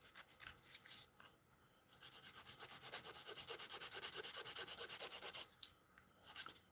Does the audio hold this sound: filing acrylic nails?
yes